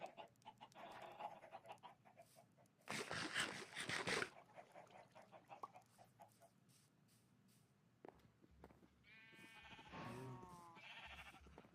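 Minecraft sheep bleat in a few short, wavering calls near the end, mixed with other blocky farm-animal noises such as clucks and barks earlier, at moderate level with no talk.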